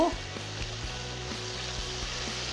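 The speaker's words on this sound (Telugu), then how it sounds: "ఆ నూనెలో దొండకాయలన్నీ వేసి" Ivy gourd (dondakaya) pieces frying in hot oil, producing a steady, close, continuous sizzle with a faint low periodic hum underneath and no talking.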